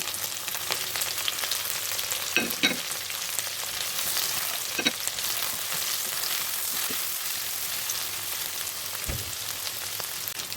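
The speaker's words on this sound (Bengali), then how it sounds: "চিংড়ি মাছগুলো একটু ভালো করে ভেজে নিতে হবে" Shrimp frying with browned onions in a pan, a steady dense sizzle running throughout with occasional scraping stirs, fairly loud and close, no talking.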